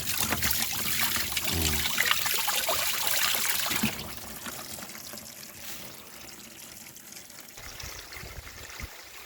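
Water gushes strongly from the outlet pipe of a solar-powered pump, a steady splashing trickle that runs continuously, louder at first then settling into a softer, even flow outdoors.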